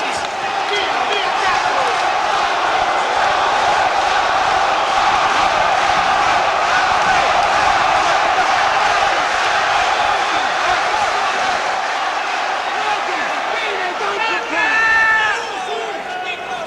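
A packed boxing arena crowd roars and cheers continuously at a Nigel Benn vs Mauro Galvano fight, a loud sustained wall of voices with whistles near the end and a commentator speaking over it.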